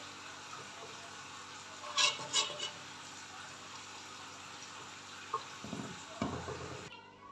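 A spoon stirs white mash dal (urad lentils) into a pot of cooked spices, giving soft scraping and a few faint clinks against the metal over a quiet, low kitchen background.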